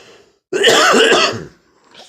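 A single harsh throat-clearing cough from someone with a cold bursts out close and loud for about a second, then quiet follows.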